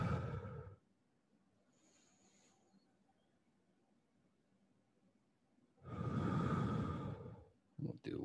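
Slow, deliberate exhales during a guided tai chi exercise: a soft breathy rush near the start, then a longer, fuller breath out later, with quiet stillness between.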